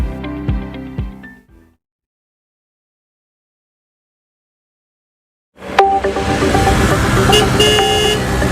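Morning city traffic with car horns honking: a short burst of honks and engine noise, a gap of silence, then a loud, dense swell of road traffic with sharp toots.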